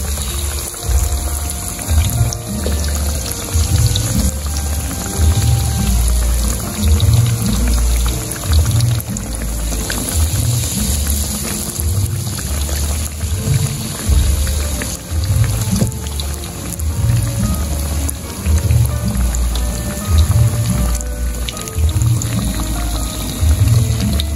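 Sweet potato pieces in a thick flour batter fry in hot oil, a continuous crackling sizzle like rain with low, irregular bubbling pulses underneath. No voices.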